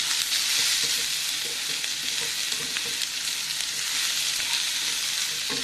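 Elephant foot yam, pressure-cooked beforehand, frying in a moderate amount of oil and being stirred, giving a steady close sizzle with scattered scraping stirs throughout, no voices.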